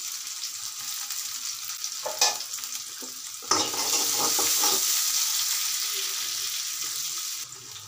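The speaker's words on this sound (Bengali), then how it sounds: "পেঁয়াজটা আমি একটু লাল লাল করে ভেজে নেব।" Chopped onions fry and crackle in hot oil, stirred so they redden; a spoon scrapes a few times, then a loud, dense sizzle swells and holds close, with no voices.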